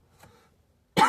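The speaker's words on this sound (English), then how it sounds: "coughed again" A single sharp, close cough bursts out after near silence, loud and abrupt, with a faint murmur earlier.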